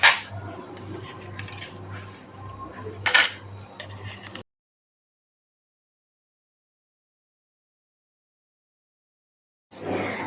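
Knife cutting cooled Kutchi patodi, a steamed dhokla, inside its pan: close scraping and tapping of metal on metal for several seconds, then a long silent gap before brief noise returns.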